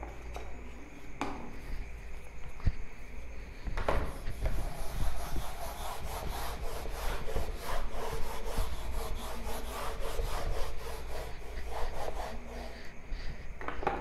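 Something on a board is rubbed off in steady, repeated scrubbing strokes with a few sharp knocks, close and continuous, with no talking.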